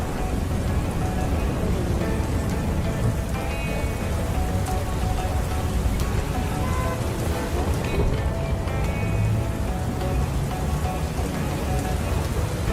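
Steady, dense rain from an approaching storm hisses evenly across the whole stretch, moderately loud and continuous, with no voices over it.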